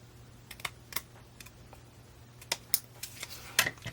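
Paper trimmed off the edge of a handmade sympathy greeting card, a series of sharp, quiet clicks and snips at irregular intervals, close by, over a faint steady hum, with no talking.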